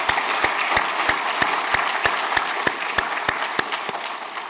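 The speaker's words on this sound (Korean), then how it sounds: "우리 박 전사님 위해서 오가는 발걸음 안전할 수 있도록 크게 가장 큰 박수로 환영하시겠습니다." A church congregation gives a long round of applause to welcome a church worker. The clapping is steady and dense throughout, with a few sharp claps standing out near the front.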